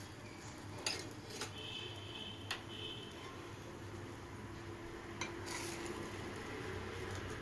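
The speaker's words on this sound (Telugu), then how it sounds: "వీటిని ఇలా పెనం మీద కాల్చుకోవాలి." Sweet potato bobbatlu frying on a pan with oil: a faint, steady sizzle carries through, broken by occasional light clinks of a utensil against the pan.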